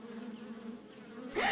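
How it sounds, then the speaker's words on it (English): A swarm of bees buzzes steadily with a low droning hum, then swells into a louder, brighter burst near the end, with no voices. "the sweet-smelling daisy attracted a swarm of bees"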